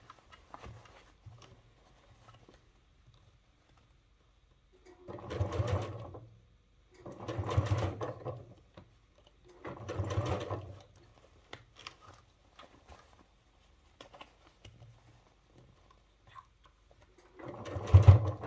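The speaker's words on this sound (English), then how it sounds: "So just sew that all the way around." A sewing machine stitches all the way around a sling bag in four steady bursts of a few seconds each, close and moderately loud, with quiet pauses between runs.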